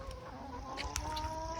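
A female guinea fowl on a small backyard farm gives a few faint, short calls in a quiet pen, with soft bird chatter in the background.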